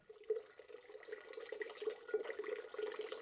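Warm water runs steadily from a tap or is poured into a container for cut branches, a continuous close trickling stream with a bright splashing texture that grows slightly fuller as it goes.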